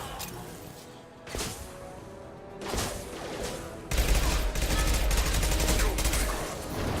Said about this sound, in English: Those SMGs are hard to control.